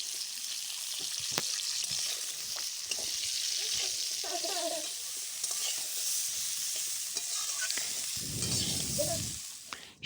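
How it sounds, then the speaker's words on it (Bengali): Carrots, beans and potatoes frying in a pan, a soft continuous sizzle with scraping stirs and a few clinks of the spatula, some quiet talk in places. "এরপর গাজর, বিনস, আলু এই সবজিগুলো একটুখানি ভেজে নেব।"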